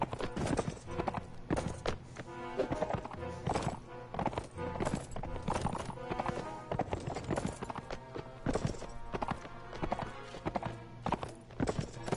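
Horses gallop across a Mount & Blade battlefield in a busy, irregular stream of hoof clip-clops at a moderate distance, with an occasional faint whinny and no speech.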